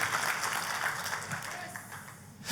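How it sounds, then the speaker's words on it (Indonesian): A church congregation applauds together during a worship service, a dense, steady wash of clapping that carries on for a couple of seconds with some voices mixed in. "Tepuk tangannya yang paling meriah buat Tuhan kita."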